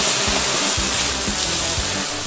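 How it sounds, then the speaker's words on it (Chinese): Boiling water pours into a pot of pickled cabbage in a home kitchen, a loud, steady gushing splash that runs without a break and is heard alone. "放入开水"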